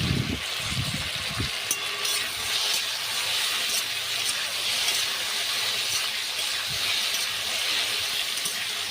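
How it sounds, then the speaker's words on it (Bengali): Taro stolons frying in a pan with a little turmeric give off a steady, loud sizzling hiss that runs the whole way through, with a few soft stirring knocks near the start. "একটুখানি হলুদ দিয়ে হালকা ভেজে নেব।"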